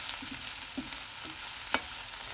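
Food fries in a pan with a soft, continuous sizzling hiss. A few light utensil clicks and taps break through now and then, fairly quiet and nearby, with no voices.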